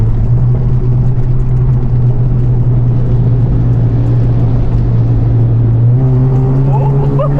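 A custom-tuned Honda Civic FB with the R18 engine and automatic transmission accelerating, its engine drone loud and steady from inside the cabin as the occupants chatter excitedly over it.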